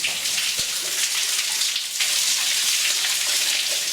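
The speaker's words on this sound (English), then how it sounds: "It's flooding this tunnel." Water rushing through a flooded mine tunnel near a waterfall, a steady, loud hiss of flowing and splashing water that fills the space without pause.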